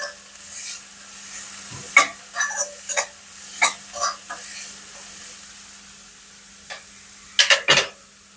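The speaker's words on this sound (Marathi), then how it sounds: "कांदा आता परततोय याच्यामध्ये थोडंसं अगदी थोडी हळद घालणार" Chopped onion with a little turmeric frying in a pan for a leafy vegetable dish, a soft sizzle under a string of clinking, scraping stirs that bunch up near the end, close by, with no talking.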